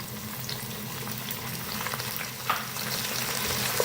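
Tomatoes sizzle and fry in a hot pan for achari aloo gobi, with occasional stirring clatter, a steady close crackle throughout.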